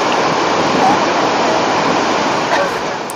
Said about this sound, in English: Hard to hear with all the water noise.